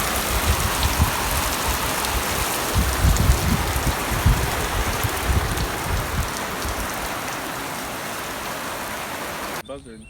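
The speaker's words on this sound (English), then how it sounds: "the rain is definitely coming out this way." Heavy rain pours steadily in a dense, close hiss, with low gusty rumbles underneath, cutting off abruptly at the very end.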